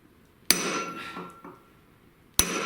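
Two sharp, loud hammer whacks ring out on the rear axle hub of a Triumph TR3, about two seconds apart, each followed by a lingering metallic ring.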